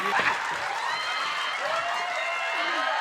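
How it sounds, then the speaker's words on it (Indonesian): A studio audience at an Indonesian comedy stage show applauds for a performer named Rocky, a broad clapping wash that carries on under voices and tonal sounds. "Sekali lagi tepuk tangan boleh untuk Rocky"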